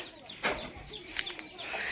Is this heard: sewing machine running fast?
no